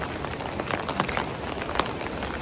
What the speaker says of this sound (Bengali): বৃষ্টি হচ্ছে, পুলটা কি ভালো লাগছে